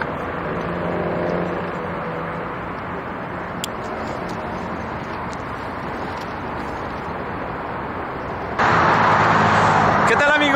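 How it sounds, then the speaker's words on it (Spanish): Steady heavy road traffic rolls along a city boulevard in León, Guanajuato, a continuous close rumble of cars with a louder vehicle surging near the end; someone talks over it. "Hay muchísimo tráfico los fines de semana y todos los días."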